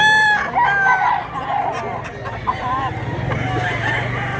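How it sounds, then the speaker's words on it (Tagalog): A rooster crows loudly near the microphone, with clucking and other chicken calls around it and a steady low background hum. "Wapo manok."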